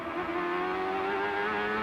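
A Honda turbocharged 2.65-liter V8 CART race car engine revs high and steady through the gearbox, a continuous close mechanical whine with strong harmonic tones throughout.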